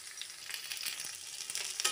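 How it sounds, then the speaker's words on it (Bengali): Mixed vegetables, including pointed gourd and papaya, fry in a pan with a steady, close, crackling sizzle that flares briefly near the end. "দেখো সবজিগুলো আমার ভাজা হচ্ছে।"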